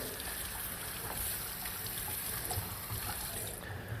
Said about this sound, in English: Now I'm going to run some cold water over them to stop the cooking